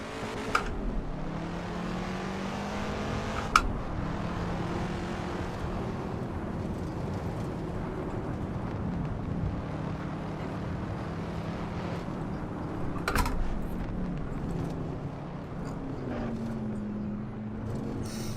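A Mustang race car with boosted power in the racing game Assetto Corsa at the Nordschleife, its engine droning steadily with rising and falling pitch through shifts, a couple of sharp clicks standing out over the continuous roar.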